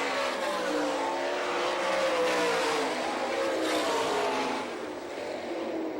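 Sprint race cars roaring around a dirt track at a Hartford, Michigan race, a loud sustained engine blare with rising and falling revs as the cars run side by side, swelling mid-way then easing slightly.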